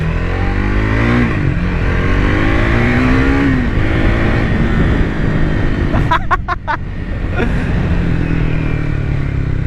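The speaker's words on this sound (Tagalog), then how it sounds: "Ito mabait tong motor na to." A powerful 800 cc motorcycle engine runs loud and close throughout, a steady deep rumble with slow rising and falling revs while the rider talks over it, and a brief burst of sharp clicks partway through.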